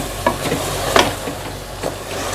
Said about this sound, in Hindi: अब इसको अच्छे से भूनेंगे